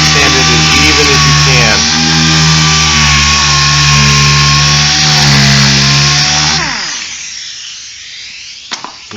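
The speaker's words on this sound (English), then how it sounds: "Real even, nice and slow, not too much air, really slow speed for the sander" An air sander slowly works body filler on a VW bus, giving a loud, steady whirring hum for most of the stretch before winding down and fading near the end.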